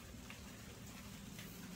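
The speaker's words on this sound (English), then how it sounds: "It's raining." Rain falls outside in the early morning, a faint, even hiss of drops on surfaces that stays steady throughout, with no voices.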